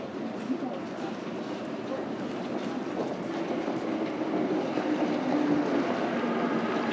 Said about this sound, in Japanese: 2番線に到着の電車は渋谷新宿方面行きです。